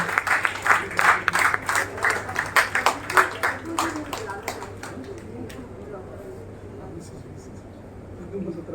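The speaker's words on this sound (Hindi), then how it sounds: "तालियां तो बनती हैं भाई" An audience at a Lions Club installation ceremony and Teej festival claps as a member is garlanded. The clapping is loud and bursty at first, then fades after several seconds, leaving a faint hum and scattered taps.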